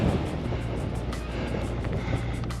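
Strong wind buffets the microphone in a constant low roar on a desert mountain trail in Franklin Mountains State Park, gusting throughout with no other clear sounds.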